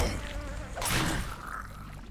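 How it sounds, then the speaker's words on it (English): Bees buzz in The Lord of the Rings Online video game, a continuous droning hum with a louder swell near the middle, heard alone without talk. "I don't know how bees work against crawlers. Not the bees!"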